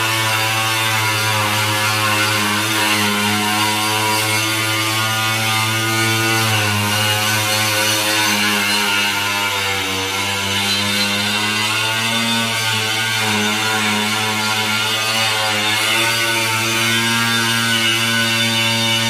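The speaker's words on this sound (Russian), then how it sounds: "а там режем болгаркой" An angle grinder cuts through a plastic pool wall in one continuous, loud, high-pitched whine that holds steady for the whole stretch, with no talk.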